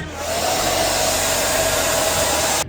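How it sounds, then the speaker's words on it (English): A blow dryer on its cool setting blows steadily over freshly misted hair during a barbershop haircut, a loud continuous whoosh that cuts off abruptly at the end. "Then you take your blow dryer on cool air and do the same thing."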